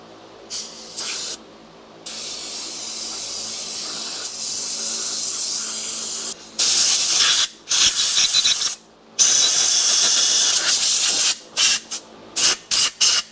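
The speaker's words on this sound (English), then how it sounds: "Just gonna spray it off in this box to catch all the goo." Pressurized aerosol cleaner sprayed onto carburetor parts from an old MF711 skid loader inside a catch box, loud bursts of hissing spray of varying length, some long and sustained, others short and stuttering, with brief silent gaps between.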